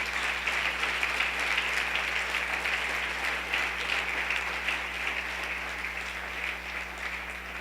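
A church congregation applauds during a Sunday service, a steady, dense wash of clapping from many hands that holds at an even level throughout with a low hum underneath.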